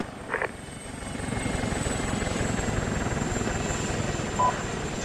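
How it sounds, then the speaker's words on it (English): Steady rhythmic thudding of a helicopter's rotor, loud and continuous, with a faint whine above it as the aircraft passes during a military exercise. "Once the helicopter's passed, we will move northwest in arrowhead"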